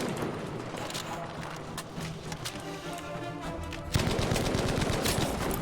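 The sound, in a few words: Bren machine gun firing in video game Battlefield V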